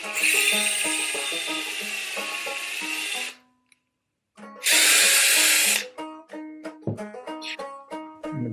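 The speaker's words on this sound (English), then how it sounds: "the drill bit got crooked. Went through there a little crooked. Got into the metal" A power drill bores through the metal of a 1973 Evinrude outboard carburetor in two loud, high-pitched grinding bursts separated by a short silence. Lighter clinks and scraping follow.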